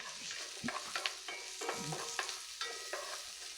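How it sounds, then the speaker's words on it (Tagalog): Garlic and onions sizzle softly in a pan while a utensil stirs them. Irregular scraping clicks and knocks come through over a steady frying hiss, quiet and close, with no one speaking. "Halu-haluin lang natin ito hanggang sa pagbago ng kulay ang ating bawang at sibuyas"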